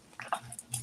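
A dog makes short whimpering or mouthy sounds, a few brief bursts close by in an otherwise quiet room.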